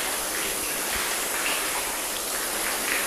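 Water sheeting and splashing over a car panel coated with IGL spray sealant, a steady close hiss of running water with no voices.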